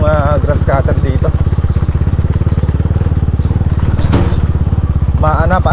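A grass cutter engine with a spark plug fault runs at close range, a loud fast pulsing putter that holds steady throughout, while people talk over it.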